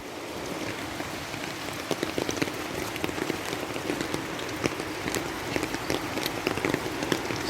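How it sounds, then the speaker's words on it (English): Steady rain pours down on a rainy day by a hidden river in Portland, Jamaica, making a dense continuous patter with scattered sharper drop impacts close to the microphone, no voices. "this time it's all rainy weather"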